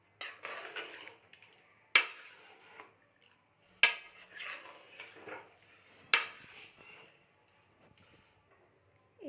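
Chicken being stirred into curry gravy in a metal pot, with four sharp spoon-on-pot clanks at roughly two-second intervals, each followed by softer wet scraping and stirring, close and fairly quiet.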